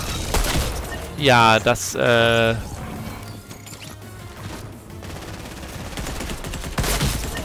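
Weapon fire in the Fortnite video game: a brief burst of rapid shots and sharp cracks in the middle, following a short exclamation from a player who speaks over the game.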